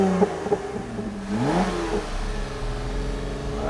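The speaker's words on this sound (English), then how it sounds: "It's got a nice exhaust note too." A Lotus Evora engine revs up with a rising exhaust growl, then settles into a steady low drone, close and fairly loud.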